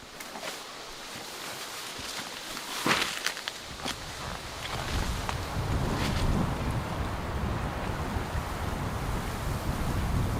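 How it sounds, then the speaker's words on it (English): Headwind gusting across open water while a canoe is paddled on a solo trip in Woodland Caribou Provincial Park wilderness, a steady broadband rush that builds louder halfway through, with occasional knocks and splashes. "This headwind's picking up"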